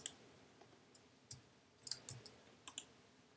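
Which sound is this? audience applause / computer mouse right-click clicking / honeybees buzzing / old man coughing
computer mouse right-click clicking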